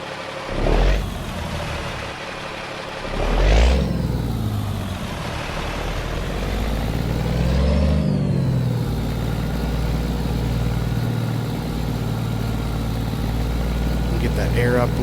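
An old Ruda RVM 3500 truck engine cranks and catches with a couple of rough bursts, then settles into a steady, low rumbling run close by, with a voice talking over it.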